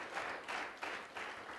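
An audience breaks into steady, swelling applause to welcome alumna Gina McCarthy to the stage at a UMass Boston green education celebration, with claps rising in waves and no voices over them.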